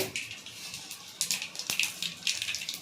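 Mustard seeds temper in hot oil for sambar, spluttering in short bursts of crackling pops over a low background hiss.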